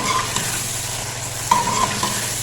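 Chicken fries in ghee for a restaurant-style korma, a continuous close sizzle with a few light stirring knocks and scrapes over it.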